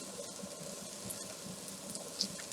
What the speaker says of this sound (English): Just adding the celery. Just giving it a little stir.